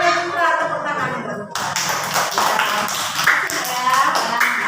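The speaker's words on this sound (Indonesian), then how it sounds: "Tepuk tangan itu." Classroom applause for a student, a short burst of children clapping together at close range, brisk and uneven for a few seconds, with voices mixed in.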